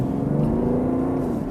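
A BMW 530d's big diesel engine revs, a close, steady rising drone with a smooth harmonic hum during acceleration.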